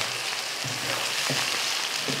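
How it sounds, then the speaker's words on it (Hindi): Chicken frying over a medium flame in a pan, a steady close hiss of sizzling oil with a few soft stirring scrapes, no voices. "मीडियम फ्लेम पे 5 मिनट के लिए हम चिकन को फ्राई करेंगे।"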